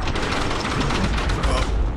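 Sniper rifle fire in a corporate-assassination shooter game, a dense burst of loud gunfire with booming low thuds running steadily through the whole moment.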